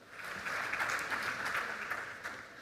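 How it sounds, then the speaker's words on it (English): A warm round of applause rises from an evening audience in Colombo as a speaker is introduced for a UX design talk. The clapping is dense and steady, holds at an even level, then eases off slightly. "I would like you to give him, please, a warm round of applause"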